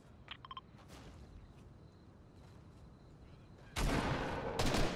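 Gunfire from the Fortnite video game during a squad fight: faint popping shots early on, then a loud, dense burst of rapid fire near the end, over steady game background noise.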